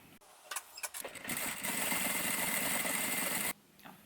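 A sewing machine stitches a seam joining two parts of a fabric tote bag handle, starting with a few short bursts, then running steadily for about two seconds before stopping. It sounds close and fairly quiet.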